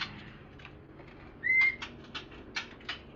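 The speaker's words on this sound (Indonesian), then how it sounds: "Ini yang bunyi anakan" A white-rumped shama (murai batu) chick calls at a breeding setup, giving several short, high chirps and one thin whistle over a steady low background hum.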